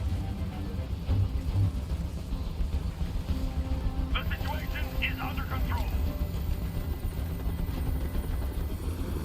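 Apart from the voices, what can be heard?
helicopter noise in a video game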